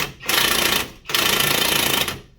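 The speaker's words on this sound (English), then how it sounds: "You can just put an impact on it or a socket set, whichever one you want" An impact wrench hammers a rusted 27 mm bolt on a Lincoln Navigator's suspension in two loud, close, rattling bursts separated by a brief pause.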